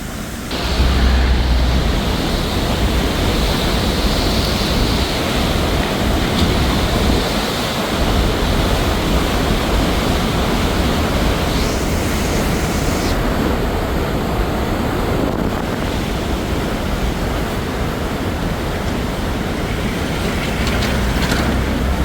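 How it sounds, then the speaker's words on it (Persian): A swollen, fast-flowing river in Baghlan, Afghanistan rushes loudly and steadily, a dense roar of churning water that holds throughout with no voices. "همیشه ما مدیون این آب فراوان هستیم که شما به تصویر میبینید که ماشاءالله چه یک آب خروشان دارد"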